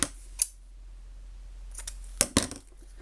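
Scissors snip a few times through what seems to be tape or paper during a craft project, with two sharp cuts near the end after an earlier single snip, close and fairly quiet with no talking.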